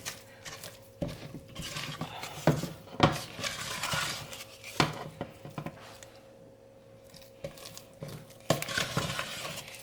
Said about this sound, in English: So I start trying to scrape it from around the edges, but it's like turning into this dough.